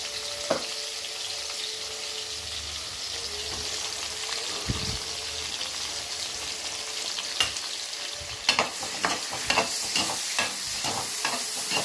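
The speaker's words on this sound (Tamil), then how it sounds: "வெங்காயம் வதங்கட்டும்" Onions, tomatoes and salt sautéing in hot oil in a pan, a dense, steady close sizzle broken by sharp spatula knocks and scrapes, louder clatter near the end, no talking.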